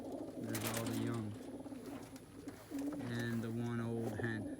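Pigeons coo in a loft full of hens, cocks and young birds, two clear drawn-out coo phrases close by, with a person talking over them.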